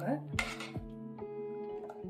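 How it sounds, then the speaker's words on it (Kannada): A metal tawa griddle set down on a home stove, giving a loud metallic clank followed by ringing clatter and a few softer knocks, with no talk over it. "ಒಂದು ತವಾ ಇಟ್ಕೊಂಡು ದೋಸೆ ಹಾಕೋಣ."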